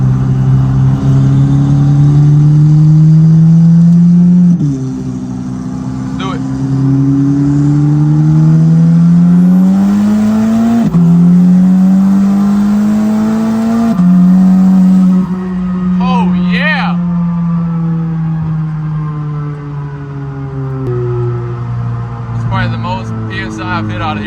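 A turbocharged Audi A3 with a big turbo and DQ500 gearbox accelerates hard through several gears. The loud engine drone climbs steadily, dips at each quick shift and then rises again, with turbo hiss and a voice talking over it.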